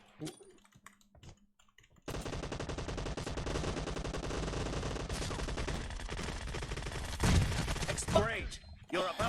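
Rapid automatic gunfire from the PUBG Mobile video game, a dense sustained burst of shots starting after a quieter opening and running to the end, with louder bursts near the close and voices faint underneath.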